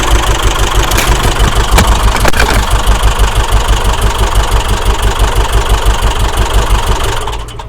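A Subaru Outback engine with a broken timing belt and damaged valves idles roughly and loudly, its uneven pulsing beat misfiring and stumbling throughout before fading slightly at the end.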